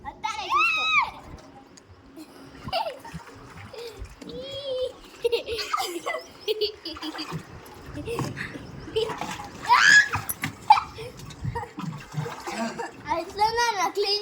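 Water splashes and sloshes in bursts as children clean a household water tank, close by and fairly quiet, under frequent children's chatter and voices.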